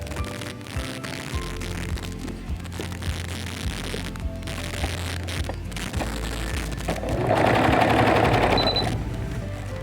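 A sewing machine runs steadily while stitching a girls' frock, its rapid mechanical chatter continuous and close, rising louder and busier toward the end.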